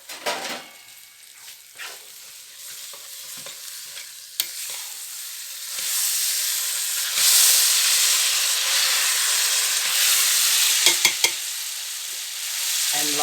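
Chopped onion drops into hot oil with spices for a pickled fish dish, hissing and sizzling steadily and growing louder partway through, with a few stirring clinks and scrapes near the end.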